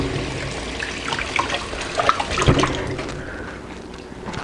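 Running water rinsing fresh runner beans in a kitchen sink, a steady broadband splash with brief louder surges as the beans are moved about under the stream, close and continuous.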